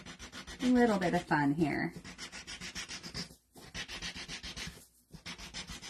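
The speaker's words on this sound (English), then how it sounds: "I love it for beveling the edges of my wood pieces." A small Dremel rotary tool sands and bevels the edges of small wood pieces with a steady buzzing, rubbing grind that carries on for several seconds with brief pauses, while a person speaks quietly over it near the start.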